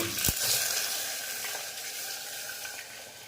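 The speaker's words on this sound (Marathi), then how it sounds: "त्यामध्ये मी आता हे दूध टाकते।" Boiled milk hits hot ghee in a pot with a sharp sizzle that quickly eases into a softer, steady hiss.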